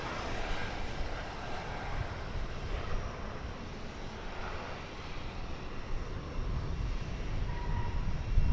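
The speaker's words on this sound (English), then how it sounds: "American Eagle Flight 3624 from Springfield is arriving here on an Embraer" An Embraer 175 jet airliner arrives at Dallas Fort Worth airport, its engines producing a broad, steady roar at moderate distance with continuous rumble and no pauses.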